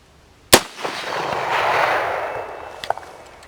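An AR-15 rifle chambered in 7.62x39 fires a single sharp, loud shot, followed by a lingering rumble and a faint metallic clack near the end.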